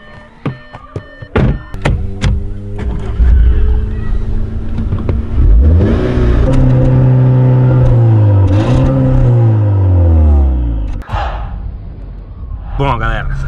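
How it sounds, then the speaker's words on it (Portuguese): An Audi A5 in automatic mode starts up and accelerates hard, its engine rising in loud, close revving sweeps after a few clunks, with voices heard around it. "Agora vamos pegar e vamos acelerar esse carro logo"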